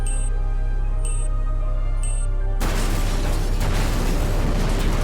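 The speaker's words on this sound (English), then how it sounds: "The bombs are destroying this entire neighborhood." Bombs exploding across a neighbourhood in a war scene erupt into a sudden, sustained roaring blast that swamps everything after a few high electronic beeps over a low rumbling drone.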